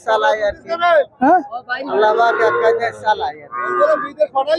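Cattle lowing at a livestock haat in Satkhira, the bovine calls rising amid constant nearby conversation and market chatter throughout.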